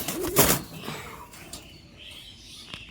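Turkish Tumbler pigeons in a loft give a sharp rustling burst near the start, followed by low, soft cooing murmurs that fade into quiet background noise.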